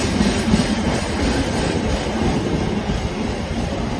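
A train passes through Ealing Broadway station in London, a steady loud rumble of wheels on rails with rhythmic clickety-clack running close by throughout, no talk over it.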